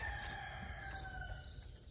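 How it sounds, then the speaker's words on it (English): A rooster crows once, a drawn-out call heard at some distance over steady outdoor background noise, with no talking. "Good morning, rooster."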